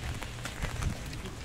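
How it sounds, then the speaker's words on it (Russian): Steady rain patters densely on a surface, a continuous hiss with scattered louder drops. "Звуки дождя."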